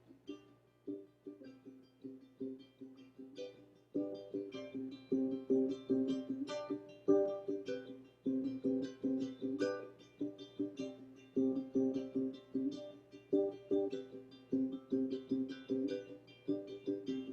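Steady acoustic guitar strumming in an even rhythm, each stroke at the same loudness with no emphasized beats, played alone and close.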